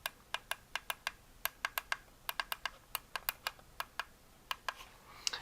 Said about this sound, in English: see if these switches sound like they're working